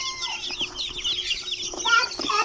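Twenty newly hatched chicks, including Polish chicks, in a backyard incubator, heard as a dense chorus of high, rapid, overlapping peeps at close range, steady and fairly loud.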